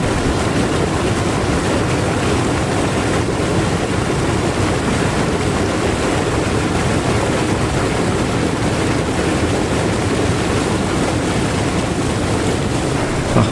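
Fast, powerful river water rushes past a large old wall by a bridge, a loud, dense, unbroken roar with steady wind buffeting the microphone throughout.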